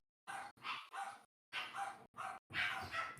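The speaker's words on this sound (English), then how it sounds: "my dogs are going on a walk, so they're very hyper right now" Several excited dogs about to go for a walk bark in quick bursts, a string of sharp yaps and woofs with brief gaps, fairly close but at moderate volume.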